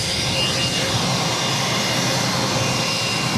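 A United Airlines Boeing 737 MAX 9 jet at Boston Logan airport, runway 22 Left, makes a loud, steady, broadband engine roar that fills the whole stretch without letting up.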